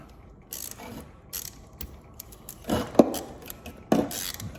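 Ratchet wrench clicks in short bursts while loosening a small nut on a golf cart charger being scrapped for copper, near and fairly loud, with metallic clinks between the bursts.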